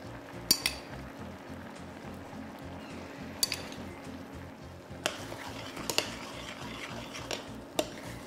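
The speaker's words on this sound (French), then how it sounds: "On va mélanger bien." A spoon stirs cuttlefish ink risotto with chard and stew in a pot, soft continuous scraping under a gentle simmer, with occasional sharp clinks of utensil against metal.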